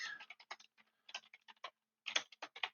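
Fingers tapping out text on a computer keyboard, a quick run of soft, close keystrokes in two bursts split by a short pause, quiet and with no talking.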